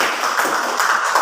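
Group applause for two student discussion groups in a classroom, a steady dense patter of many hands clapping together, fairly close and continuous with no voices over it.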